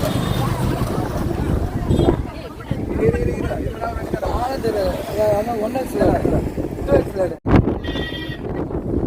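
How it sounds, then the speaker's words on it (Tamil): Strong, roaring sea wind buffets a microphone outdoors on a bridge by the sea at Tiruchendur, a constant rumbling gust noise with voices talking underneath it throughout. "காற்று பயங்கரமா அடிக்குது."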